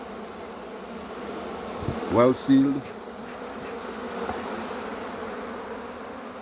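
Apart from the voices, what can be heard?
Africanized honey bees buzzing around a hive frame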